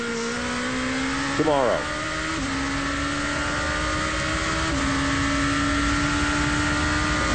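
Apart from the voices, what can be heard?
GP2 race cars racing at Monza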